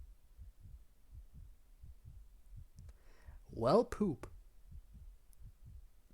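Heartbeat sound effect in the Doki Doki Literature Club video game, a soft, steady double-thump pulse repeating about twice a second, with a player briefly speaking over it midway.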